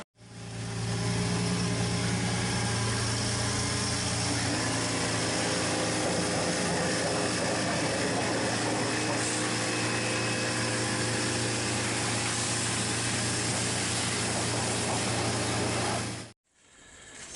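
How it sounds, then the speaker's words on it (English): A high pressure washer runs steadily for about sixteen seconds, spraying the underside of a licensed pub runner car from below. The spray hisses loud and close over a constant motor drone, then cuts off abruptly. "So we're just going to drop her down the bottom and give her a high pressure clean."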